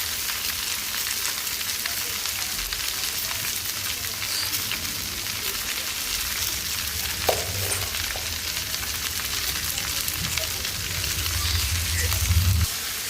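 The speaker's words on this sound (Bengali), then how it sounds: "পেঁয়াজটা ভাজা হয়ে গেছে ঢেঁড়সটা দিয়ে দিব" Okra sizzles steadily in a pan with fried onion, with a continuous loud frying hiss and a few faint stirring clicks; no words are spoken.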